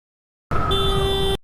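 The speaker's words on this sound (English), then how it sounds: "He honked the horn." A car horn honks in one sustained blast lasting nearly a second, loud and close, with a steady tone that shifts partway through as a second pitch joins in.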